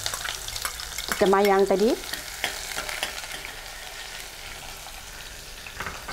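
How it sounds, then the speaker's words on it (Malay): Spices and onions being sautéed in a pot on the stove, a short burst of frying and stirring followed by a softer steady sizzle, with brief talk in the clip. "Kita tumiskan kita punya rempah dulu."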